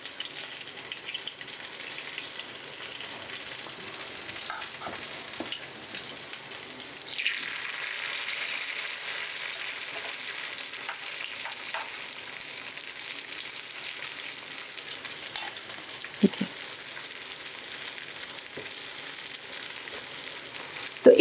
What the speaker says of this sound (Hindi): फिर हम मीडियम फ्लेम में फ्राई करेंगे